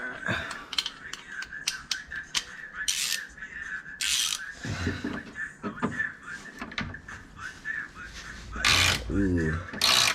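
Ratchet unscrewing 14 mm bolts one at a time on the subframe of a 1996 Honda Civic hatchback: clicking ratchet pawl and metallic clanks come in irregular bursts, close by, mixed with handling noises and occasional talk.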